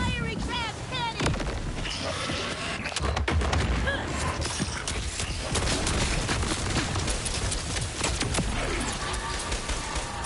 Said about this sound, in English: Firing ram cannon!